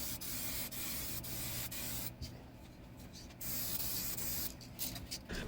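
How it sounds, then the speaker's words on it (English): A spray gun lays a clear coat onto a Pontiac Fiero car part, a steady close hiss of misting spray with brief pauses and bursts as the gun is triggered, with no talk. "I started laying down the first coat of clear"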